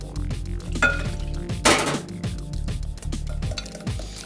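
An electric mixer beater works through crepe batter in a bowl, giving rhythmic knocks and scraping clinks against the sides, with one brighter rattling burst near the middle.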